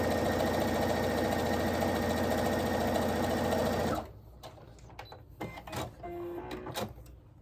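A sewing machine stitching denim and plaid quilt fabric runs steadily at a fast whirring, buzzing pace for about four seconds, then stops, leaving small handling clicks and taps.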